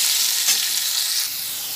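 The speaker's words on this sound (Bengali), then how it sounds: "ঢাকনা দিয়ে দিলাম, আলুগুলো ভেজে নিচ্ছি" Potatoes fry in a covered pan for a sesame potato dum, giving a steady, close, dense sizzle that stays even throughout with no talking.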